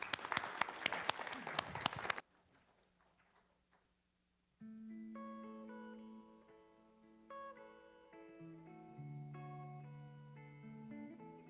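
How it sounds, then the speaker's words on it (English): Loud, dense audience applause for a singer fills the opening two seconds, then cuts off abruptly into near silence before music begins. "Let's give him a round of applause."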